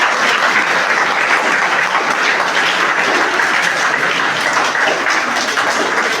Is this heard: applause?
yes